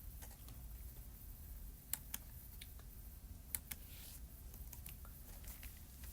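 A few sparse keystrokes as numbers are typed on a computer keyboard, faint isolated clicks over a low steady hum with no speech.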